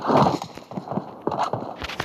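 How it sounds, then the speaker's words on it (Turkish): Rapid footsteps in PUBG Lite patter in uneven bursts, close and fairly loud, with a few sharper thuds near the end. "Ayak sesi mi aldım lan?"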